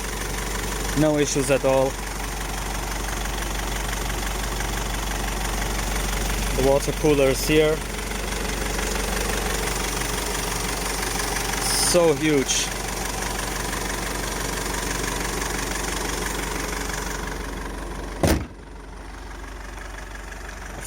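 The 4-cylinder CDI diesel engine of a 2000 Mercedes-Benz E200 CDI W210 idles with a steady low clatter, with someone speaking over it at intervals and a sharp knock near the end.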